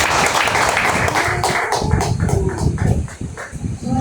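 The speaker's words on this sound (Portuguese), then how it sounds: "Palmas para Jesus" A church congregation clapping in praise during a worship service, loud rhythmic group clapping mixed with voices and ambient room sound throughout.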